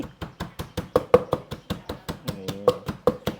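Chili being pounded in a mortar for Thai yum salad, a steady rhythm of about twenty sharp, hollow knocks, close and loud, with no talk.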